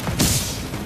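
A grenade explodes in the video game The Division: one short, loud boom with a sharp broadband crack that fades quickly into rumble.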